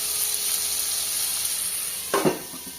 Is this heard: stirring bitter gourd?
yes